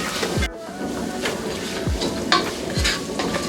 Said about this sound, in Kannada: ಈರುಳ್ಳಿ ಬೇಗ ಫ್ರೈ ಆಗಬೇಕು ಅಂತಂದರೆ ಇದಕ್ಕೆ ಉಪ್ಪು ಹಾಕೋತಾ ಇದ್ದೀನಿ.